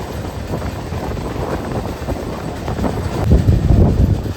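A passenger train running along a raised track on a special service from Kerala to Gaya, heard from on board as a steady, close rumble with rattling and clatter that swells slightly near the end, with no speech.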